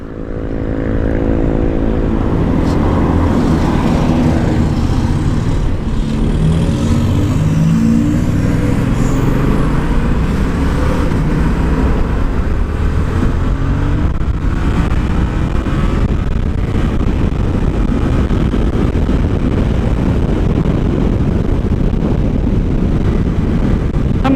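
Loud, steady wind roar buffeting the rider on a motorcycle at high speed, a dense, constant rushing noise mixed with engine drone that fills the whole stretch without pause.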